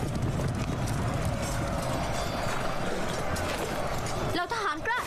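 In an anime battle scene, a mass of imperial iron cavalry gallops in a dense, continuous rumble of hoofbeats, loud and steady throughout, with a brief voice breaking in near the end.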